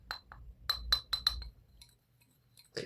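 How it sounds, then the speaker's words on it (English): A spoon stirring chocolate in a glass, a run of bright ringing clinks against the glass, several quick strikes in a row, then a pause and a final clink, close and clear. "Give it a bit of a stir."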